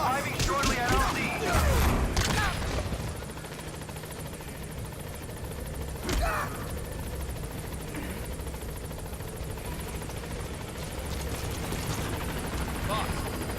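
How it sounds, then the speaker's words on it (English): Support helicopter arriving at a landing zone in the Metal Gear Solid V: The Phantom Pain video game, steady rotor whir and engine drone under radio voices and bursts of gunfire, loudest at the start. "Support helicopter has arrived."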